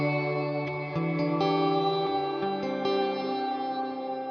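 Electric guitar chords through a Walrus Audio R1 reverb pedal on its shimmer setting, bright sustained tones with a high airy halo, chords changing every second or so and ringing into each other, with no talking.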